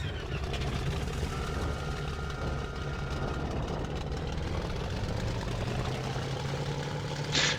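A Bf-109F fighter taxiing in the 2001 IL-2 Sturmovik flight game, its engine and propeller giving a steady, low, droning idle that runs unbroken and fairly quiet throughout.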